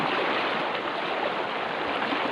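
A clear mountain river in the Sierra Madre near Dingalan flows with a steady, close rushing wash of water and no voices.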